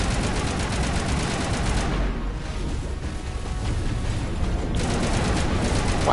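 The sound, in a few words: gunfire from hacked enemies in the Mass Effect video game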